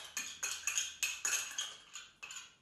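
A spoon working chicken burger mixture with mayonnaise in a bowl, eight or nine quick clinks and scrapes in an even rhythm, close and clear with no talking.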